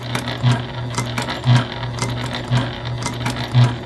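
A sewing machine backstitches seams on a convertible bag, its low steady motor hum rising into four evenly spaced louder surges, close and with no talking.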